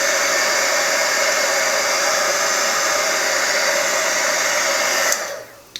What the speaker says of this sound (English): So I grab my dryer and start drying right away.